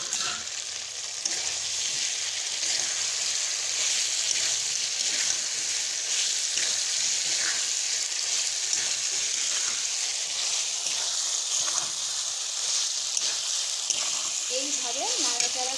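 Fried jackfruit and potato pieces cook in spice masala with a continuous, dense, close sizzle, broken by soft stirring scrapes and a small squeak near the end.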